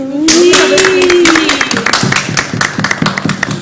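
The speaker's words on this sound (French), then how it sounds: "Est-ce que vous pouvez les applaudir?" A studio audience on a French women's quiz show applauds the quiz team, a dense burst of clapping that thins into scattered claps, with a voice carrying a sustained tone at the start.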